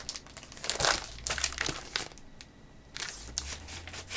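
Free improvisation playing on record: scattered crinkling, scraping and crackling bursts come in irregular clusters with short gaps, fairly quiet and textural rather than melodic.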